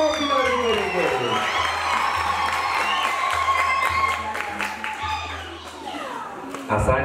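Wedding guests applaud and ululate, with dense clapping, high trilling cries and crowd voices overlapping, then easing slightly toward the end.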